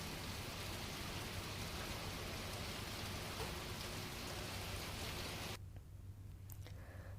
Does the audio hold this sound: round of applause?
no